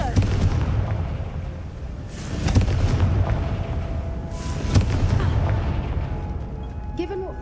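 A Confringo blasting spell fired in a Hogwarts video game, heard as a couple of heavy, booming bursts over a constant low rumble, each blast swelling and fading against the ambient game background.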